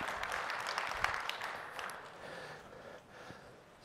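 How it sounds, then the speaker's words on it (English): Crowd at a mainstage conference speech applauds in a broad wash of clapping that starts moderately loud and gradually thins and fades over a few seconds, with no speech on top. "Give yourself a round of applause."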